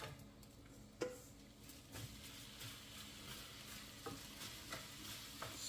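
Lettuce-wrap filling scraped into hot oil and stirred, a soft continuous frying sizzle punctuated by several sharp scrapes and taps of a utensil against the pan.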